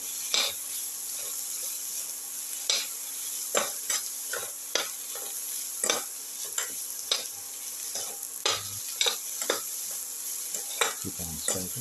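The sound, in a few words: sautéing chicken with tomato, herbs and salt in a pan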